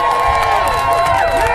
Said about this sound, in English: round of applause for Miley